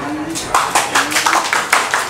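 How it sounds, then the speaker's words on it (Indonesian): Scattered audience claps at a stand-up comedy show, a handful of separate sharp claps spread unevenly over two seconds, sparse rather than full applause. "Yang jomblo tepuk tangan."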